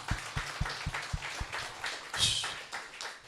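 An audience claps at a live talk, opening with a run of sharp, evenly spaced claps that swell into a looser burst of applause before easing off.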